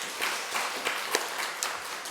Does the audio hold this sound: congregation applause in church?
yes